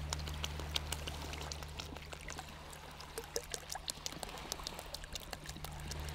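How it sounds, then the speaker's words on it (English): Water is poured steadily into a coral reef model box, a faint continuous trickle with small splashes over a low steady hum. "fill our reef box with some water"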